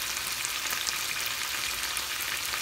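Lemon and black pepper chicken pieces frying in a pan just after being turned over, giving a steady, fairly loud crackling sizzle that continues without a break and with no talking.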